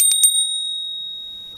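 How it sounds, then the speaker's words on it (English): A brass bell from India, likely a Sarna bell, is struck three quick times in a row, then leaves a clear, bright tone that rings on alone and fades slowly. "We have this one, which is from India, so it's probably like a Sarna bell"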